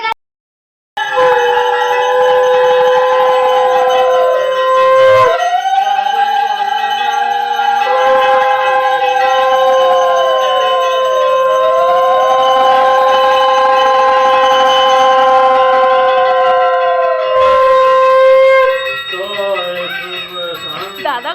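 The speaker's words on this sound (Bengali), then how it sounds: "শঙ্খ বাজাবে কে ওই শঙ্খ বাজাবে" A conch shell is blown at a home Saraswati Puja in a series of long, loud, wavering notes that bend up and down in pitch, with a short pause between blows and faint voices around.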